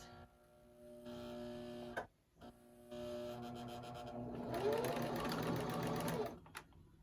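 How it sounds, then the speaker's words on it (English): A sewing machine runs a straight stitch forward and back along a pillow seam, a steady motor whir with short pauses, up close and without talk. "I'm just going to stitch forward and then do a back stitch to seal it"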